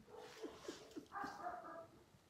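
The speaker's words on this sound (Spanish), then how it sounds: "No sabía yo que ladraban mis perras tantos desde que estoy en casa" Two pet dogs barking at home, a few short, faint yips followed by a longer whining bark, all fairly quiet and at a distance.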